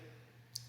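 A single sharp computer mouse click, brief and close, over faint steady background hum while modelling a building's material sections in design software.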